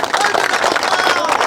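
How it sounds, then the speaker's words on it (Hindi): A large outdoor crowd at a public circle dedication ceremony claps loudly in a dense, continuous burst of applause, close and full. "तो एक तो सारा युवा साथियों के लिए जोरदार ताली बजा अभिनंदन करें"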